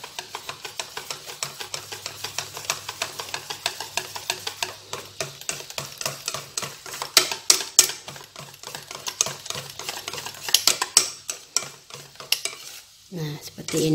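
Pandan pukis batter is stirred by hand with a utensil, giving a close series of irregular scraping and tapping strokes against the bowl that grow busier and louder midway, then stop briefly before resuming.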